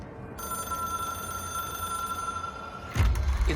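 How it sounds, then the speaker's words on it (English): A telephone rings inside the video game Control, a steady electronic bell tone sustained for about three seconds before it cuts off into a louder burst of low noise. "It is a phone."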